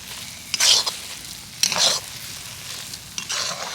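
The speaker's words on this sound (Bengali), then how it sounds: "এবার আমি জাস্ট এইভাবে নাড়তে থাকবো এইভাবে নেড়ে নেড়ে লাড্ডুর পাকটা তৈরি করে নেব" Sago laddu mixture being stirred in a pan, three separate bursts of scraping and sizzling spaced about a second apart over a quiet background, close and clear.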